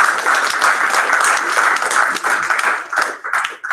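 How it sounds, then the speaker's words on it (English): An audience claps for a volunteer after her talk, a loud, dense stretch of steady applause with a few quieter dips near the end. "Can you hear us clap for you?"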